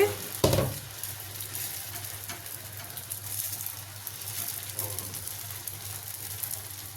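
Dosa batter of green gram (pesarattu) sizzles steadily on a hot griddle after a brief clatter as it is poured, a soft continuous frying hiss with no talking.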